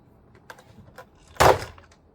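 Plastic door card on a Jaguar XF being pulled loose from the door after its four screws are removed: a single loud, sharp pop-and-crackle burst near the mic, preceded by a few faint clicks.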